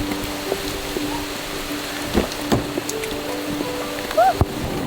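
Heavy rainy-season rain in La Fortuna, Costa Rica patters down on a surface, a constant wash of drops with occasional louder taps and a few brief clunks.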